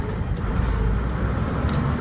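A Foton eight-speed truck with a two-box body idles on a road in Angola, giving a steady, dense low engine rumble throughout with faint traffic-like noise and no talking.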